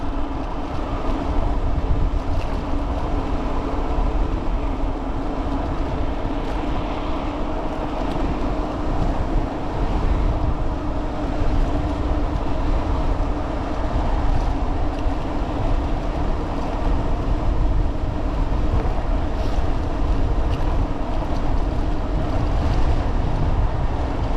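Strong wind roars continuously into the microphone during an e-bike ride through River Falls streets toward mountain bike trails. It is loud and unbroken and covers any other sound, with no talking.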